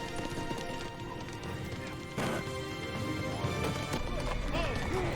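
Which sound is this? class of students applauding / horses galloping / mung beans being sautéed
horses galloping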